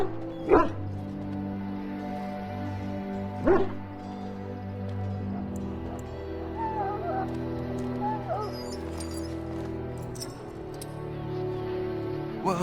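A Mabari war dog in the Dragon Age video game gives a couple of short barks and whimpers over a sustained low musical drone and ambient game sound, with no speech.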